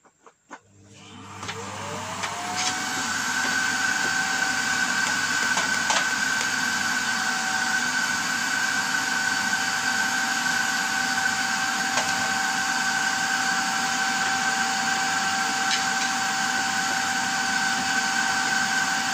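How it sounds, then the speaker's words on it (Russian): A Bosch vacuum cleaner spins up and then drones loudly and steadily while dusting an LG CT-25Q40RQ television, with a high whine and occasional faint clicks. "Телевизор буду чистить с помощью этого пылесоса"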